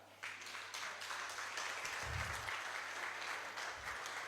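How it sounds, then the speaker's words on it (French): Congregation applauding during a French-language sermon on the doctrine of God: steady, moderately loud clapping filling the whole stretch, with a brief low thump midway and little else over it. "Est-ce qu'on applaudit bon Dieu ça?"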